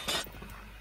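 Glass window shattering in a horror map video game, a single bright crash of breaking glass with a short clinking tail, close and fairly loud, fading into quiet room tone.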